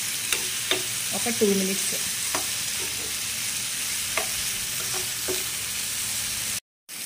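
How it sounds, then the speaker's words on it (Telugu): Fresh coconut pieces fry lightly in a pan for idli and dosa chutney, with a soft continuous sizzle broken by occasional stirring scrapes and clicks. A voice speaks briefly. "ఇప్పుడు వీటన్ని లైట్గా ఫ్రై చేస్తాను"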